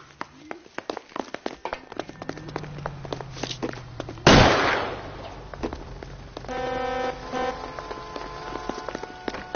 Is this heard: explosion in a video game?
yes